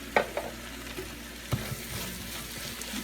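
Carrot halwa stirred in a cooking pan with cardamom powder added, a soft scraping stir with a few clinks and a steady low sizzle beneath, close and fairly quiet, no voices.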